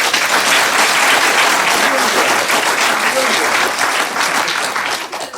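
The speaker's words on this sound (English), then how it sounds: "Y'all clapping, y'all know something?" An audience applauding a comedian gives loud, sustained clapping that starts at full strength and begins fading near the end, with the performer's voice faintly mixed in.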